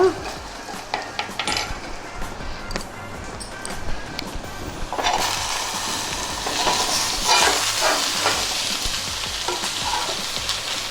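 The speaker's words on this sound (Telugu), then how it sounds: "ఈ చారు తాలింపు ఇలా వేగుతూ ఉంటుందన్నమాట" Cumin, mustard seeds and dried red chilli sizzling in oil for a rasam tempering, a close crackling hiss that swells louder halfway through, with light utensil clinks.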